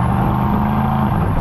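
Engine and exhaust of a Porsche Cayenne Turbo GT or Aston Martin DBX707 performance SUV in its loudest exhaust mode, a close, steady, deep roar holding a constant pitch for a moment.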